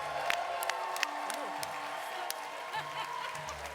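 Audience at a live Dungeons & Dragons show at a gaming convention cheering and applauding, a steady crowd roar with scattered whoops, partly under an announcer's voice.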